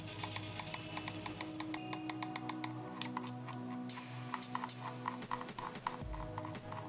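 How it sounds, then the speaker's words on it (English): Corsair Katar gaming mouse scroll wheel stepping with a quick run of faint, light ticking rattles, close up and fairly even in rhythm, with no talking. "As you can hear, there's a slight rattle going up, but that's pretty normal on most mice"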